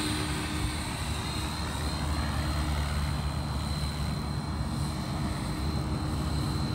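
Continuous loud whine and rotor drone of a Blade Fusion 550 Stretch RC helicopter flying in gusty wind, steady and broadband with wind rumble, no talking.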